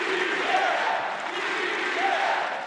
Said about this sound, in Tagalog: umalingaw-ngaw ang sigawan sa loob ng plenaryo ng Kamara